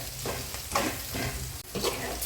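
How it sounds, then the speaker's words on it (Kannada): Peas and onion fry in a pan with a steady sizzle, broken by several scraping stirs and small clatters near the microphone; no one speaks. "ಸೊ ಬಟಾಣಿ ಈರುಳ್ಳಿ ಎಲ್ಲ ಚೆನ್ನಾಗಿ ಫ್ರೈ ಆಗಲಿ."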